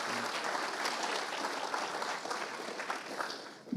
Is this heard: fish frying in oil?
no